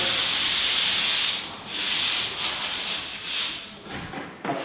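A sanding sponge lightly smooths dried drywall compound at an inside corner, giving close, hissy rubbing strokes in several back-and-forth passes with short pauses between them.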